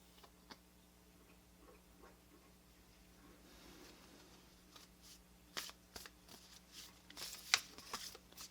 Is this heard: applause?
no